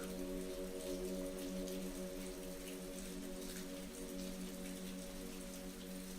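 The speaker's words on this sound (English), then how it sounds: "The rain continued to pour relentlessly" Steady rain pouring down in a village setting, a soft even hiss with scattered drops throughout, faint and unbroken.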